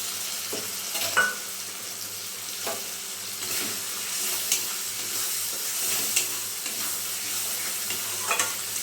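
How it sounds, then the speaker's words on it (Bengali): Spice paste fries in a pan for a vegetarian Bengali papaya curry, with ground cashews and yogurt stirred in. A steady close sizzle runs throughout, broken by soft scraping strokes of a spoon at irregular intervals. "এবার দিয়ে দেব বেটে রাখা কাজু বাদাম"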